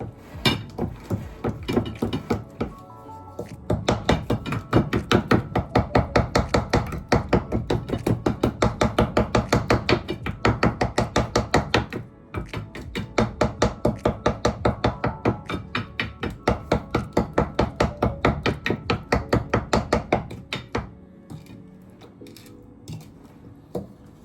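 Bananas being mashed for banana bread, with rapid rhythmic clacking of a utensil striking a bowl in long fast bursts and brief pauses, loud and close, with no talk.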